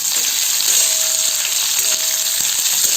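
Sliced onion, garlic and dried red chilli fry in oil in a pan, giving a loud, continuous close-up sizzle with light crackles and occasional soft stirring scrapes.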